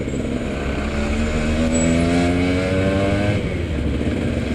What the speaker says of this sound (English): It's powered by a 125cc two-stroke engine